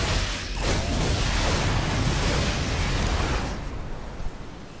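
Grenade blasts in a video game roar as a dense, sustained rumble with whooshing and crackling debris, loud and continuous for several seconds before tapering off.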